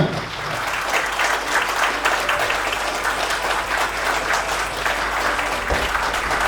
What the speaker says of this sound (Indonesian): kita berikan tepuk tangan yang meriah untuk pembicara kita, Sakman dan bisa